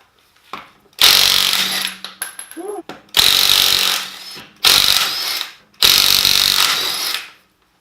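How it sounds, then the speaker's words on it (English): A new Ryobi 3-speed power tool, used during rear brake work on a 2015 six-cylinder Toyota Highlander, runs in four loud, close bursts of whirring rattle, each about one to two seconds long, with a brief voice between the first two. "Let's try out this new Ryobi 3-speed, see how easy, if it works well."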